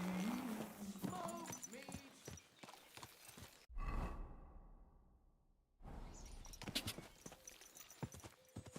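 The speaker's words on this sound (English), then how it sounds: "There's the horse." Steady clip-clopping horse hooves trot along amid busy background chatter in Kingdom Come: Deliverance II, with a sudden whooshing cut into a fading rumble before the hoofbeats resume.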